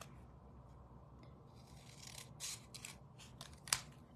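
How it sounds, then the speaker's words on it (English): Scissors snip paper scraps for card making, with several crisp close cuts clustered toward the end. One sharp click stands out among them over quiet background noise, with no talking. "And then snip."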